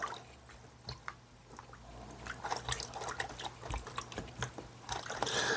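A scarf being soaked in water gives off soft irregular splashes, drips and wet squishes, quiet and close, growing a little busier toward the end.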